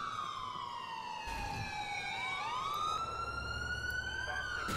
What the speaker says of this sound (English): The ambulance just drives by.